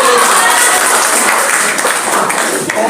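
An audience applauds and claps together at a school event, a dense, loud and continuous wash of clapping that fills the space from start to end.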